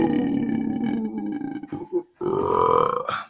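A man lets out loud, drawn-out belches after eating four packets of ramen and four eggs: one long, close burp, a brief silent gap, then another sustained croaking belch.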